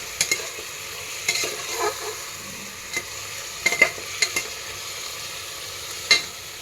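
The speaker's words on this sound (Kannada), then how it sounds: "ನಾನು ಉಪ್ಪು ಹಾಕ್ಕೊಂಡು ಮಿಕ್ಸ್ ಮಾಡ್ಕೊಳ್ತೀನಿ" A utensil stirs food in a pan as salt is mixed in, giving sparse scraping clinks and taps at irregular moments over a faint, quiet background with no voices.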